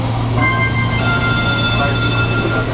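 Interior of a moving LRT light rail train in Metro Manila, a steady loud rumble with a low constant hum and faint tonal whines from the car, continuous throughout.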